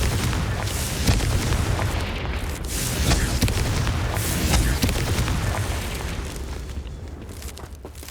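Confringo blasting-spell explosions in Hogwarts Legacy, a loud, sustained roar of booming bursts and crackling fire that fills the stretch with no voices.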